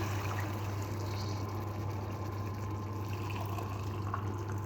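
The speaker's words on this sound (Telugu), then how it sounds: "ఇప్పుడు ఇందులో ఒక హాఫ్ లీటర్ వరకు వాటర్ యాడ్ చేసుకోవాలి" A steady stream of about half a litre of water pours into a pan for Bombay chutney, a continuous close liquid rush with a low background hum and no talking.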